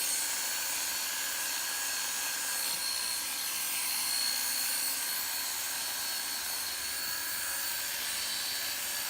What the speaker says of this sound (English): This trimmer has 2 speeds.